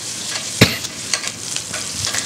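Onions, garlic, mustard seeds, urad dal and curry leaves sauté in hot oil in a pressure cooker, a close steady sizzle broken by sharp pops and spoon scrapes.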